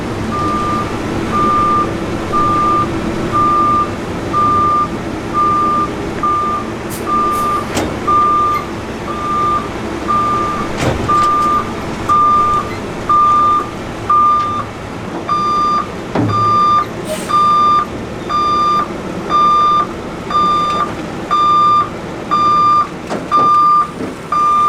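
A Peterbilt truck backs up to hook onto a trailer, its reversing alarm sounding a steady train of evenly spaced beeps over a rumbling engine, alone without talk.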